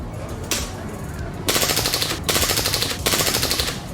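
Rapid popping shots from a rifle at a fair shooting gallery come in repeated quick bursts of regular cracks, loud and close over a busy background.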